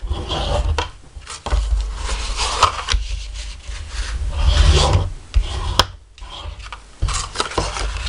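Paper being creased firmly along scored lines for a catch-all box or container, giving repeated close rasping, rubbing strokes in irregular bursts with brief pauses and no talking.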